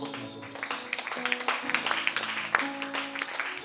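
A church congregation claps together, a dense run of uneven hand claps that keeps going, while music with sustained tones plays beneath and a voice rises above.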